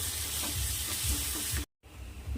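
Garlic with turmeric and salt sautés in a pan for dahi bhindi, a loud, close, continuous sizzle with rhythmic stirring scrapes, cut by a brief silent gap before the frying resumes.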